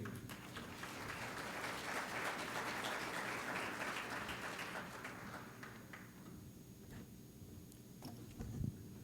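Faint audience applause at a CEO roundtable event, dense clapping that swells and then thins out into scattered claps, with a low background hum.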